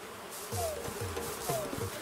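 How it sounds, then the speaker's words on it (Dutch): A buzzing wasp caught in a net in the Animal Crossing New Horizons video game, a steady insect drone with repeating sliding tonal blips over it. "Je hebt een wesp gevangen, poe, gelukkig ben je niet gestoken."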